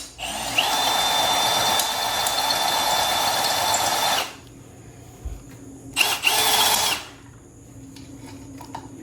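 A power drill running a step bit cuts through metal on an e-bike stretch kit install, a loud steady high whine for about four seconds, then a short second burst after a pause, heard close up.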